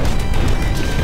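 A bowling ball smashes through debris in the destruction game Instruments of Destruction, a loud continuous crashing rumble lasting about a second with no talk over it.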